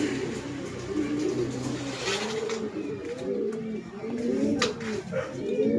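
Pigeons coo in repeated low, rolling phrases, close and steady, with a few faint higher bird calls and a distant car in the background.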